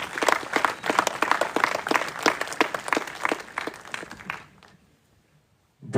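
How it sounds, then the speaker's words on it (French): A cinema audience applauds two co-presidents as they are introduced, steady dense clapping for about four seconds that quickly fades to near silence. "que je vous demande d'applaudir"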